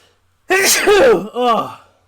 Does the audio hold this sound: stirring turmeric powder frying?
no